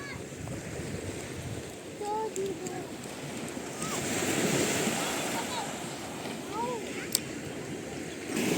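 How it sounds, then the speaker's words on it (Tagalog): Large ocean waves wash steadily onto Agwawan Beach, a continuous surf roar with wind buffeting the microphone and occasional faint bird calls over it. "Masyadong malalaking alon ngayon."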